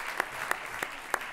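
Audience at the final of a francophone slam poetry championship in Le Mans, 2015, applauding with a steady wash of dense clapping, a few sharper individual claps standing out at regular moments.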